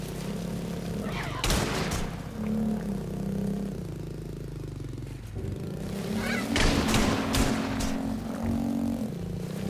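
Video game gunfire during a motorbike sequence: bursts of shots crackle around 1.5 seconds and again from about 6.5 to 7.5 seconds, over a constant mix of engine rumble and game noise.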